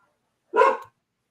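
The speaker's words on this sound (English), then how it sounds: "damn dogs. Mind my animals." A single short, sharp dog bark stands alone against silence, moderately loud and close.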